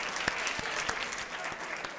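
Studio audience at a Catalan television word-game show applauding, a brisk, dense patter of clapping with a few sharper individual claps standing out.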